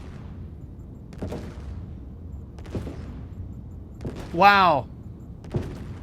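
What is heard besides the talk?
gunfire from a video game ship's weapon hitting a ship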